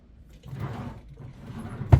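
A drawer in a home workspace slides open with a soft rumble, then ends in one sharp thud, close and alone without talk.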